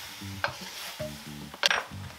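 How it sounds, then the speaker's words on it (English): Jumbo shrimp and broccoli cooking in a pan on medium heat give a low, steady sizzle, broken by a few stirring scrapes and one sharper clatter near the end, with no talking. "we want to keep it cooking until the shrimp are cooked all the way through, this time on medium heat"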